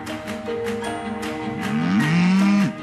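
Wagyu cattle on a farm giving a loud, drawn-out moo that rises and bends in pitch, close by, over steady background noise.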